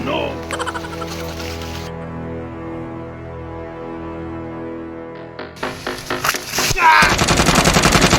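Rapid machine-gun style bursts from prop guns in a comedy skit about clumsy bodyguards, rattling loudly at the start and again near the end, with a long sustained tonal music bed between and shouting voices over the final burst.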